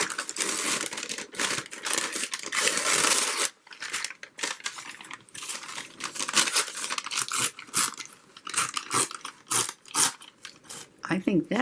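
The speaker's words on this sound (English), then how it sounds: "I feel like ripping." Paper being torn and crumpled for a trash journal, with bursts of ripping and crinkling on and off throughout, loud and close, and a person talking in between.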